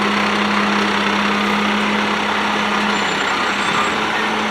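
A truck hauling a full load of gravel climbs uneven ground, its engine a loud, steady drone with a constant low hum throughout, close by and without pause, no talking.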